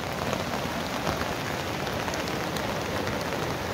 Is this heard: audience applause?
no